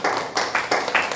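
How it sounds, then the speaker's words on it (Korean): A church congregation at a Korean worship service claps in a brisk, rhythmic pattern of repeated bursts, heard at a moderate distance with no talk over it. "우리 모든 영광을 박수로 하나님께 올려드리겠습니다."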